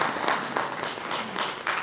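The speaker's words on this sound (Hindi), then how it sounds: "ताली बजा के स्वागत भी कर सकते हैं।" Brief burst of audience clapping at a conference in Agra welcoming guests, moderately loud with uneven individual claps standing out.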